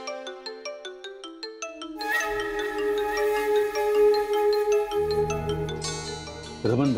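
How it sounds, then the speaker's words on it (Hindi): A phone ringtone for an incoming call plays in a Hindi TV drama, starting as a rhythmic series of short beeps and then swelling into a louder sustained melodic tune. Background music shifts near the end. "रमन भल्ला का फोन आ रहा है"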